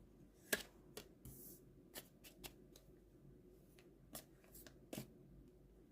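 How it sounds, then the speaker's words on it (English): Tea leaf fortune cards are shuffled by hand up close during an intuitive card reading, giving a series of quick papery riffles and taps in uneven bursts against a quiet background. "let's shuffle for home and family"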